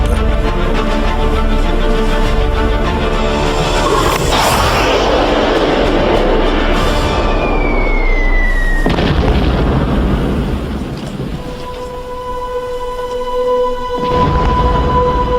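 Failed launch of an early liquid-fuel rocket prototype, a loud roaring blast and rumbling explosion mixed with a dramatic musical score, swelling then fading into lingering tones.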